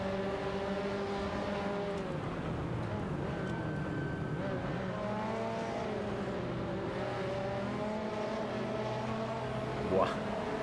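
Race cars in the driving game Assetto Corsa drone steadily through the whole stretch, the engine note rising and falling with gear changes, with someone talking over it.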